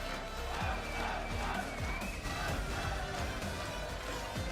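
At an esports arena during a Halo Championship Series match in London, an in-house band drums with a loud, roaring crowd, repeated low beats punching through a dense wall of cheering.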